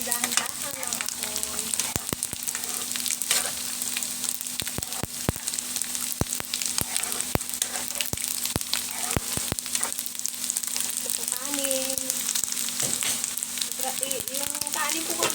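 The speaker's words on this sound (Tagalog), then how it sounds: "Yung kanin po kagabi, sayang naman po, kailangan ay isangag po natin." Leftover rice from the night before being stir-fried in a pan, a long, even sizzle broken by frequent sharp scraping and tapping clicks from stirring, with only faint background sound otherwise.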